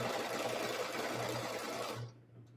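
Embroidery sewing machine stitching a trimming placement line, a fast steady mechanical whirring with a rapid needle rhythm, close and clear, stopping abruptly about two seconds in and leaving near silence.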